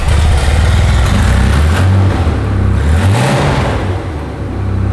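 An Audi 90 Quattro engine, just revived after being saved from the scrapyard, runs loud and close with rising and falling revs, its steady mid-pitched drone swelling briefly near the end.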